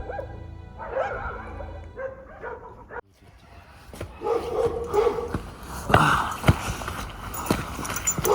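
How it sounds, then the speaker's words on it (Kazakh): Dogs bark a few times in the distance, with rustling and footsteps close by and some faint movement noise. "Ана иттердің дауысы шықты"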